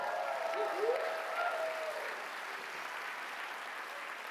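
An audience at a demo day event applauds and cheers steadily, a dense wash of clapping that holds at an even level throughout.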